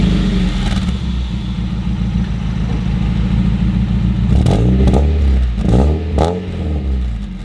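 A Mazda Miata's engine cranks and catches, then idles steadily before several sharp revs climb and fall near the end. The engine is close and loud, and no one speaks.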